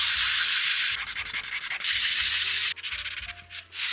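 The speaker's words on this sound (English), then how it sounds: "we can give our leg base a substantial sanding so that it may be as flat as possible" Sandpaper worked firmly across the flat leg base of a sculpted Aliens Power Loader model, producing loud, steady gritty rasping in long strokes broken by brief pauses.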